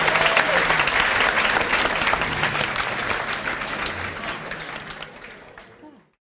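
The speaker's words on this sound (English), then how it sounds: "one more big round of applause" A large audience at a talk at the 2019 Nelson Arts Festival breaks into sustained, enthusiastic applause with some cheering voices, gradually fading out before stopping.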